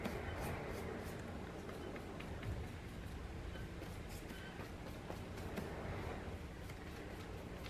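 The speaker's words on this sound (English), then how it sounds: "it's been windy and you can hear that wind howling" Gusty wind roars steadily outdoors on a warm, breezy day, a constant broadband rush with faint ticking and rattling on top and no voices.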